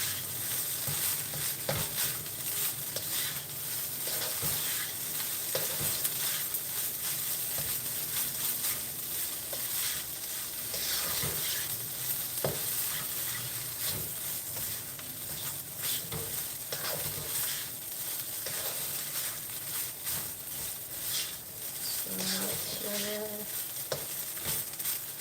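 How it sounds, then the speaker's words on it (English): Egg roll in a bowl stir-fries in a hot pan, giving a steady, close crackling sizzle with scraping stirs and scattered sharper pops throughout. "And then you just stir fry."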